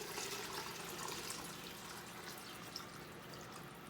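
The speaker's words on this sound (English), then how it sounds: "Add your stock. This is the stock that's left." Stock poured into a pot of chicken and sausage gumbo, a steady close liquid rush with a soft splashing wash running throughout, with no talking.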